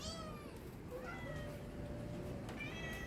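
Several hungry pet cats meow at feeding time, a few rising and falling cries at moderate distance, fairly faint, over soft background room noise with no talking.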